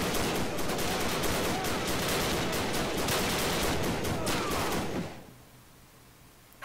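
A biplane strafes in a World War One video game, a dense roar of rapid machine-gun fire and impacts that holds steady for about five seconds, then cuts off abruptly to a quiet hum.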